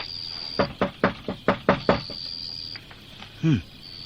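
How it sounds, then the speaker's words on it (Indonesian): Knuckles rap on a wooden house door in a quick series of about seven sharp knocks, followed by a pause and a short creak-like sound. "Biar, aku yang mengetuk."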